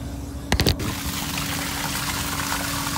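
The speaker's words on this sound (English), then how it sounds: "And now for the dirty water dump." A sudden gush of dirty tile and grout cleaning water being dumped out, splashing loudly then settling into a steady rushing flow.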